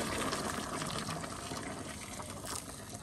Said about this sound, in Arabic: احط كده ميه مغليه